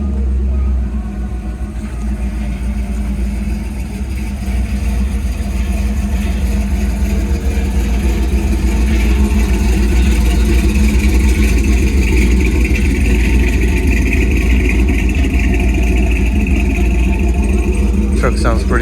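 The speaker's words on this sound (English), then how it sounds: "Truck sounds pretty nice." A vintage truck engine idles steadily at an outdoor classic car show, a loud, close, even rumble with a slight lift in revs partway through, and someone talks over it.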